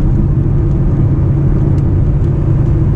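A Kia Seltos driving at around 120 and taking a turn gives a steady, loud, close road rumble and engine drone with a constant whir and no breaks.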